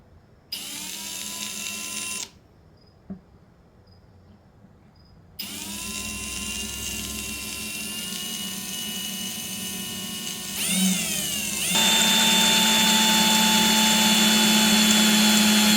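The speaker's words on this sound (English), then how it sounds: "I'm going to drill out the aluminum wedge just using some wood strips to prevent from marring up the axe head." A power drill bores out an aluminum wedge from a hatchet head, whining loudly in several bursts with brief pauses and pitch shifts between them.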